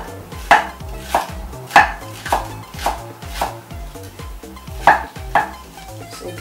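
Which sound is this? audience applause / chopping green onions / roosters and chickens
chopping green onions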